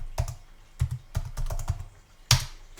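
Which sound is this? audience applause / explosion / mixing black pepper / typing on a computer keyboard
typing on a computer keyboard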